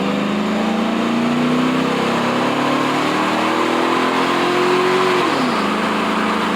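Truck engine held at full throttle during a test after a throttle body coolant hose bypass, a loud steady drone whose pitch climbs slowly for five seconds before dropping sharply, with no talk over it.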